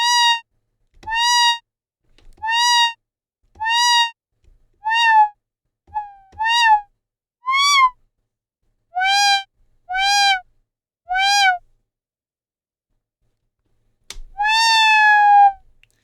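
An Arturia MiniBrute 2 synthesizer patch imitates a cat's meow, playing about ten separate, loud, close meow-like tones, each rising and falling in pitch, with short silences between them.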